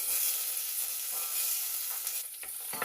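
Onion sizzling in a hot oiled pan as a stew begins, a steady bright hiss with faint crackles throughout, close and fairly loud, with a few light stirring scrapes near the end.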